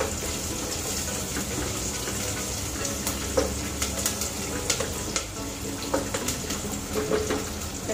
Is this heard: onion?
yes